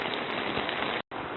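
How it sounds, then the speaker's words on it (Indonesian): Heavy rain pours steadily at a campsite by Setu Cangkuang lake in Bogor, a dense, even hiss with one brief break. "Hujan makin deras."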